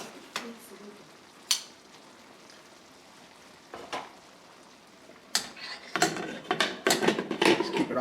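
Beans and sauerkraut with Polish sausage being turned over in a pan, with scattered utensil scrapes and clinks, then a busier stretch of stirring, clatter and soft sizzle near the end.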